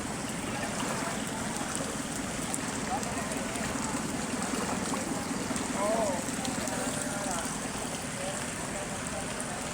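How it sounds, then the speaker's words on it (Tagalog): Floodwater flows through a street in Parañaque City, a constant broad rush and swirl of water heard at a distance, steady for the whole stretch, with faint splashes and no talking. "Siguro nagpakawala na rin ng tubig ang mga dam ngayon, kaya grabe kabaha."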